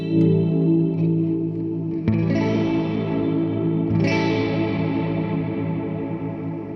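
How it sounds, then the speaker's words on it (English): Encounter ambient delay and reverb pedal on its Lo-Fi engine at default settings: sustained, distorted, warbly tape-like tones with chorus-like wobble and echoing swells, a fresh attack near the middle, continuous and fairly loud with no talking. "So as you can see, it sounds a little distorted. It's got some of that tape warbly thing going on,"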